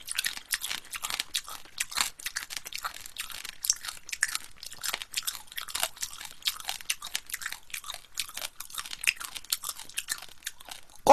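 Crunchy shell of soy sauce marinated shrimp being chewed up close, a steady run of crisp crackling bites and crunches with no talking.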